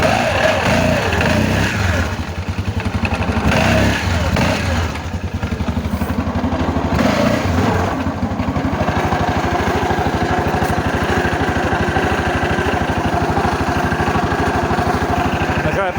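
A Yamaha Grizzly ATV engine runs steadily and loudly throughout, a buzzing mechanical drone that dips briefly and revs slightly before settling into an even idle.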